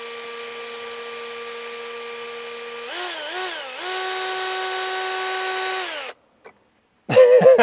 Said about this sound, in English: Maybe we need to start with a smaller drill bit.